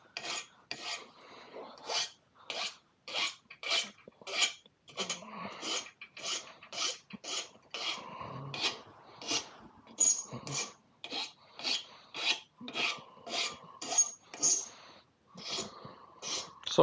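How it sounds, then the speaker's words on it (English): A hand file cutting a taper on the end of a threaded part for a Yamaha TTR250 350cc conversion, a steady rhythm of about two dozen crisp rasping strokes, close and regular, with no talk. "I'm going to file that off. Always file the end off. Give it a bit of a taper"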